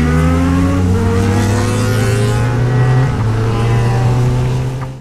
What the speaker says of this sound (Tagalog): So kahit running tayo sa motor, less ang hangin na nasasagap at rinig ang sigaw ng tambucho.